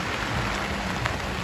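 Winter rain falls steadily on San Sebastian in Spain on the first of January, a dense, close hiss of drops striking wet surfaces, continuous and without talk.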